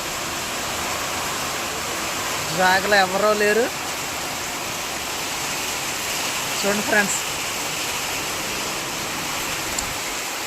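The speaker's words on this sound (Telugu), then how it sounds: "ఎంత ఫుల్ వర్షం పడుతుందో" Heavy rain pours down near a bridge in a steady, dense hiss throughout, with someone speaking briefly twice over the downpour.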